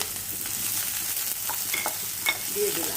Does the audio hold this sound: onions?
yes